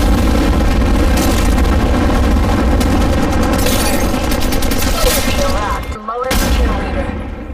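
Gunfire in the Apex Legends mobile game on Android: dense, sustained bursts of weapon fire that stay loud and close throughout, with a brief drop near the end before the shooting resumes.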